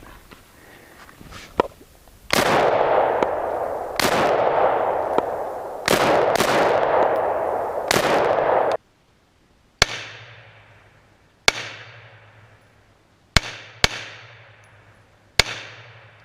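A Polymer80 AR15 build rifle fires five sharp, loud shots at irregular intervals, each with a short echoing decay. The shots follow several seconds of rough, steady noise.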